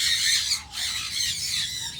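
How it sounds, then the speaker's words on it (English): A blue-backed parrot from Luzon gives a harsh, raspy squawk that is loud and close, with a brief break near the middle before the grating call carries on. "this is from Luzon, the blue back parrot."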